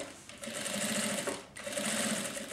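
A sewing machine stitches the seams of a thermal lunch bag, running in two steady, close whirring passes separated by a brief pause.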